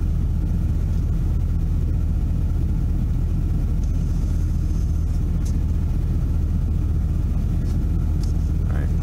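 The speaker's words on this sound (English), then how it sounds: "I'll actually try just driving into the shade and see if that makes even a difference." A Ford F-250 XLT Super Duty pickup with the 6.7L engine drives at low speed, a steady deep rumble and road drone heard from inside the cab, continuous throughout.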